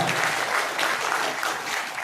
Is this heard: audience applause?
yes